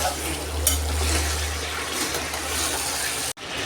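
Chicken meat frying in oil while being stirred, a steady broadband sizzle with scraping and clinking of a utensil against the pot, continuous throughout and close, cutting off abruptly near the end.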